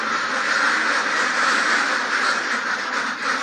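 Ducks quacking on a duck farm, young birds only four days at the poultry site, a dense continuous chorus of overlapping calls close by, steady and loud throughout without speech.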